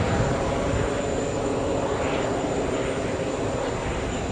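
A Delta Boeing 767-400 jet at JFK airport gives off a steady, loud engine roar that holds evenly throughout, broadband and continuous with no talk over it.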